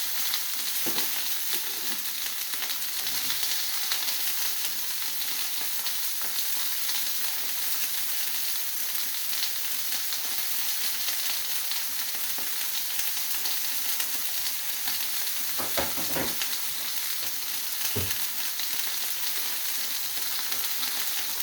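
Asparagus and broccoli warm in a frying pan with a steady, soft sizzle running throughout, plus a few brief clinks and scrapes of stirring near the end; no one talks.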